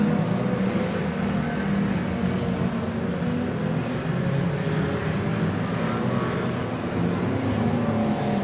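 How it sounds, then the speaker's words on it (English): Stock cars race around Oceanview Speedway in a steady, loud engine roar that holds a dense low drone throughout, with no distinct pass-by peaks and no talking. "So Lamp's running right out by the wall, throwing up a shower of sparks"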